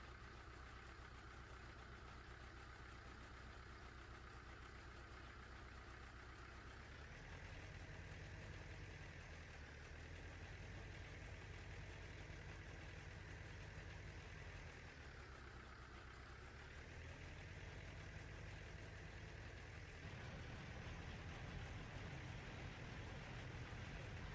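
Tractor engine idling in Farming Simulator 15, a steady low mechanical drone that holds constant throughout with slight shifts in pitch and loudness, heard alone without talk.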